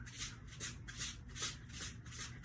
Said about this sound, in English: your toes are gonna stay down and you're gonna shuffle back and forth like this